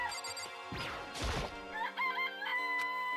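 A chicken in the video game Danganronpa: Trigger Happy Havoc gives short clucks and a crowing call over a steady game music bed, with a sharp crash-like burst partway through and no talk.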